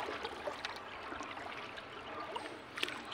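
Strong floodwater on the Agusan River rushes and gurgles steadily, a faint continuous wash of flowing water with small splashes, heard at a distance and without voices.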